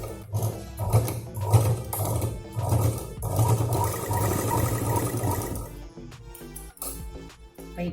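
A sewing machine stitches cloth for a small key chain purse, a close, rhythmic mechanical whirr with pulsing needle beats that runs steadily, then thins out into scattered clicks near the end.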